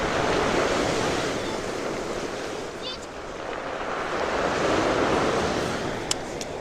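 Sea waves wash onto the shore near Vladivostok, a loud continuous surf roar that swells and eases slowly, mixed with wind noise on the microphone.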